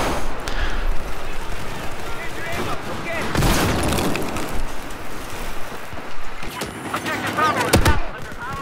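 Remington 870 shotgun blasts of buckshot in a video game ring out amid dense continuous battle noise, with loud booming shots and clatter heard over a talking voice.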